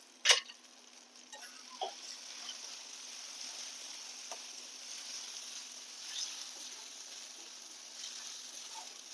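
Turmeric, coriander powder, garam masala and red chili powder sizzle in hot oil for a dried bombil fish masala, a soft, even frying hiss with a single sharp clink at the start and a few faint taps.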